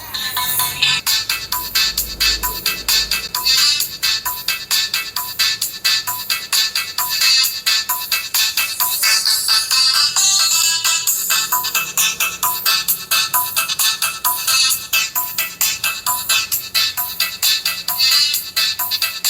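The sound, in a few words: test sound played through CD44 tweeter driver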